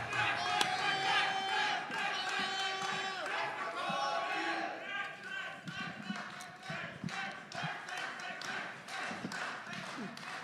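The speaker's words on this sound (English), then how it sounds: "you've got a techno crowd chant, Dax" Soccer fans chanting together in a techno-style crowd chant, rhythmic shouted voices with stomps and thuds, loud and busy, with talking mixed in.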